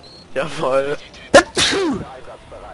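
A single sharp sneeze bursts out near the mic during a Call of Duty: Modern Warfare 3 gaming session, set between stretches of German conversation.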